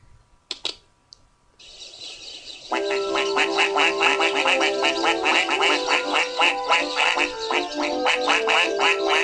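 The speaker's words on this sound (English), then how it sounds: "Okay, ducks, for some odd reason." Ducks quack in a rapid, steady stream in the video game PANIC!, loud and close after a few clicks at the start.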